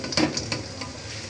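Egg and potato stirred together in a frying pan make a soft, steady sizzle, with a few scraping strokes of the spatula, close up and heard without any voices.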